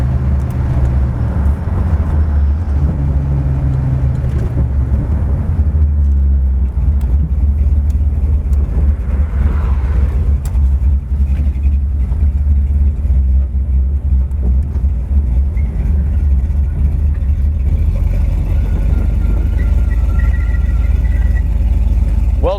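The engine of a 1982 Ford Mustang donor car rumbles steadily and loudly from inside the car as it drives, with a constant low drone and occasional shifts in revving.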